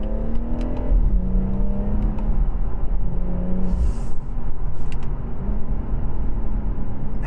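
A BMW M140i engine revs and pulls hard in manual mode on the paddles, a loud, continuous rising drone with gear shifts audible as the pitch drops and climbs again.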